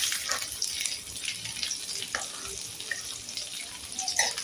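Finely chopped garlic cloves frying over a full gas flame in a pan, a steady soft sizzling hiss with faint crackles throughout, no voices.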